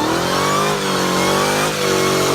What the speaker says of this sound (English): let me put quickly the sound of a normal Hellcat, a petrol Challenger Hellcat